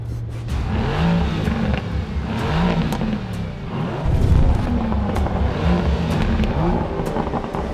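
An Aston Martin DBS Superleggera with 715 horsepower sent to the rear wheels and a Mercedes-AMG GT R accelerate hard side by side in a drag race. Their engines roar loud and steady throughout, with rising revs and gear changes.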